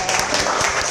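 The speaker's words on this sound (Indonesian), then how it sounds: "Kita kasih tepuk tangan." Brief burst of classroom applause as students clap for a group that solved a math problem, dense and steady throughout the moment with no talking.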